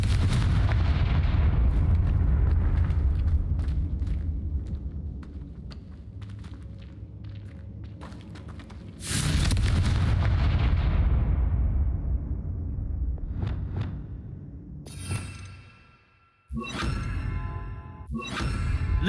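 Confringo blasting spell in Hogwarts Legacy, a booming explosive burst with rumbling low-end decay, followed by a second loud blast and sharp crackling impacts toward the end.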